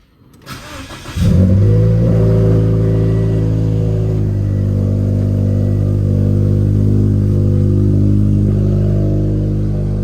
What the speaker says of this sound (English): Let's start off with the cold start.